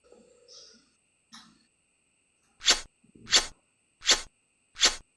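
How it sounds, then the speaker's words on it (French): A kiss sound effect plays as four short, sharp, hissy smacks, evenly spaced and fairly loud, after a few faint, scattered noises. "Ça, c'est le bruit du bec"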